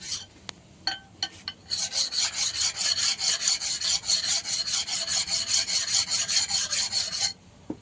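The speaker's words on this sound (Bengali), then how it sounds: "সেই শিল দিয়ে ঘষে ঘষে এখানে ধার দেওয়া চলছে" A household sickle blade scrapes back and forth on a whetstone, a few scattered knocks first, then a fast, steady rhythm of close, gritty rasping strokes that ends abruptly.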